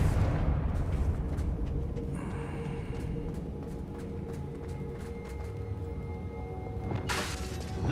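A Confringo blasting spell explodes in a video game, a dense, rumbling roar that stays loud throughout, with a brighter burst near the end.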